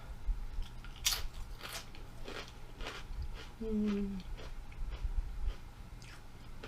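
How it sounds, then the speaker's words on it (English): Crisp, crackly crunching of salt and vinegar kettle potato chips being bitten and chewed up close, a few sharp bites followed by steadier munching. "I love the crunch of Kettle chips."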